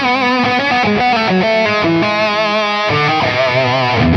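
An electric guitar through an overdriven Victory The Jack amp riffs continuously, thick and saturated, with sustained distorted chords and bright harmonic buzz throughout.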